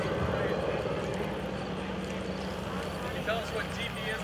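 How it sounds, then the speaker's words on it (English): A TBM Avenger torpedo bomber makes a low pass with its landing gear down at an air show, a steady droning propeller engine roar, with crowd voices faintly underneath. "Looks like he's got the gear down and it's going to come by and give you a dirty pass"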